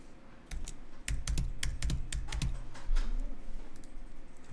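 Quick taps on a computer keyboard entering the Cmd+O shortcut, a run of sharp close clicks of uneven rhythm heard on their own against a quiet room.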